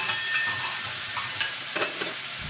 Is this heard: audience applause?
no